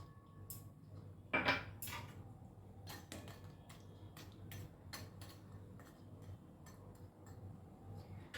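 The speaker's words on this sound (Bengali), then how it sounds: "দিয়ে দিচ্ছি ভেজে রাখা বড়া।" Fried lentil fritters drop into a pot of simmering ash gourd with a brief clatter, followed by scattered light clinks and taps of a utensil against the pot at a quiet level.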